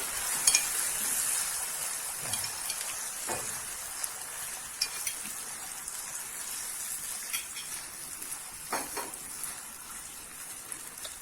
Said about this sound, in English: Now my mom is adding 4 tablespoons yogurt.